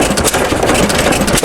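A John Deere hit-and-miss engine runs steadily at close range, its loud, continuous chugging dense and even with only a brief dip near the end, with no talking.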